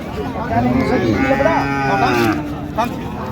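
A single close, loud cow moo rises and holds for about two seconds at the Raniganj cattle market, followed by quieter background murmur.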